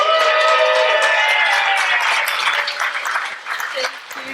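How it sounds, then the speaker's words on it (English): An audience applauds a speaker at a public gardening talk, with dense, steady clapping that stays loud throughout and thins slightly toward the end. "please, a warm round of applause for Sherry"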